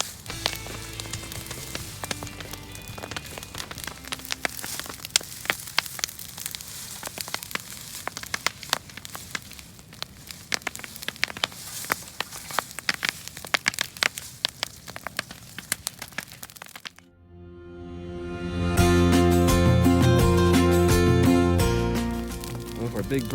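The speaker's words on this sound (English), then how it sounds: "Our big brush pile is now being slowly burned in the bonfire." A large brush pile burns in an outdoor bonfire, giving steady crackling and popping with a broad hissing rush, then a louder, fuller roar of flames near the end.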